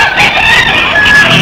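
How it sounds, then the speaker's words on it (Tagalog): A chicken gives a close, loud, drawn-out squawk lasting about a second and a half, sounding alone with no talking. "Yung manok, nagkuik-kuik"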